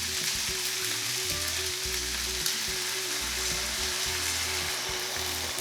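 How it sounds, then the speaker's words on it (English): Steady, dense sizzling of Pad Thai sauce hitting a hot pan with rice noodles, a continuous close frying hiss with a faint low hum underneath and no talking. "Adding all this Pad Thai sauce."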